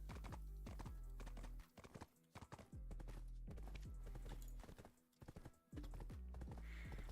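Horse hooves clip-clop in steady repeated bursts in Black Desert, the rhythmic footfalls loud and close, pausing briefly twice before resuming, with a faint whinny near the end.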